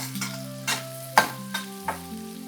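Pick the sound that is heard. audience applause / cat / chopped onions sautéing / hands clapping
chopped onions sautéing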